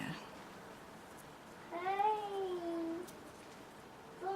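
A single drawn-out cat meow rises and falls in a quiet room, followed moments later by the start of another meow.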